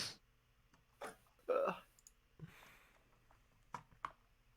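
A few sparse computer mouse clicks, quiet and close, separated by gaps, with faint talk in the background.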